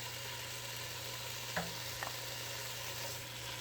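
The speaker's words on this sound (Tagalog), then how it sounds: "Same pan, add a bit of oil and add our half-cooked potato, chayote," Half-cooked potato and chayote frying in a little oil in a pan give a quiet, steady low sizzle, with a couple of faint utensil clicks partway through.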